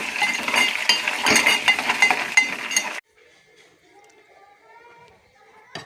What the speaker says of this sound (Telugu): ఎండుమిరపకాయలు, పచ్చిమిరపకాయలు రెండు. కొంచెం వేగనివ్వాలి.